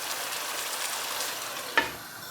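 Foli fish bhuna cooking in a pan, the fish already deep-fried beforehand: a soft, steady sizzle throughout with one brief clink near the end, and no voices.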